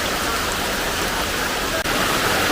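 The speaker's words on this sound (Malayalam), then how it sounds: "നല്ല മഴ." Heavy rain falls in a constant, dense hiss and roar, loud and close, with no other sounds standing out.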